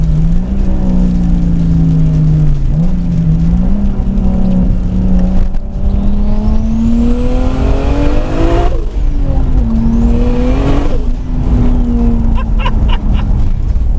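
A 600 hp single-turbo Toyota Supra pulls hard through the gears, a loud close engine note climbing with each shift, a whistling turbo spooling up over it and brief tire squeal, with no voices.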